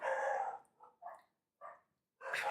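A dog barks several times nearby in a home, a loud first bark followed by shorter yips and barks separated by brief silences.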